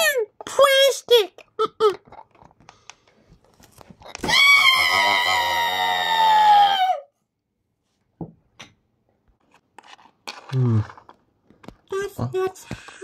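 A voice imitates the scream of a shark puppet with a loud, sustained, harmonic shriek lasting about three seconds, set between bursts of children's chatter and talk.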